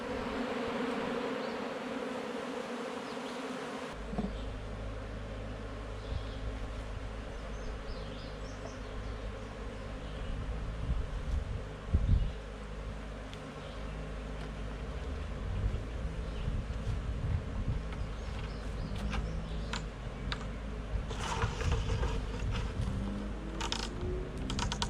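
A swarm of honeybees buzz continuously, a steady layered drone with occasional louder passes and faint clicking in the background.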